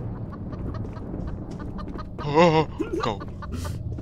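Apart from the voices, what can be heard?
chicken clucking in a Roblox horror video game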